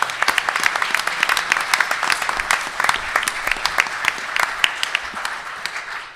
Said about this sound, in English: if we could just give them another round of applause